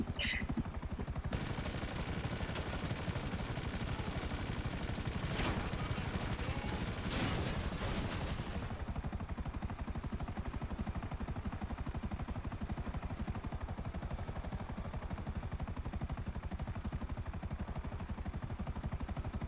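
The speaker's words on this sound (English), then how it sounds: "Go ahead and have some fun with the machine guns on this thing." Continuous rapid machine gun fire from a helicopter in the video game GTA 5, a dense steady rattle lasting the whole stretch, with a few louder bursts early on and a constant rotor drone beneath.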